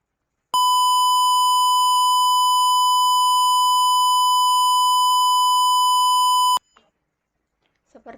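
A microcontroller buzzer driven by an ultrasonic distance sensor gives one continuous, loud, steady electronic tone lasting about six seconds, then cuts off abruptly, followed by faint clicks.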